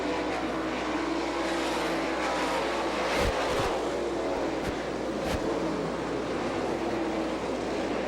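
Sprint cars racing at Butler Motor Speedway in Michigan during an All Star Circuit of Champions event: a continuous loud engine roar from the pack passing, with brief sharp bursts, and no voices.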